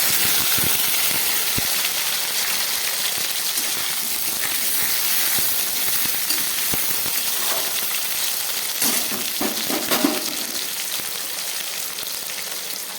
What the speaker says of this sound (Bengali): এই পাঁচফোড়নের মধ্যে আমি কেটে রাখা আলুগুলো ভেজে নিই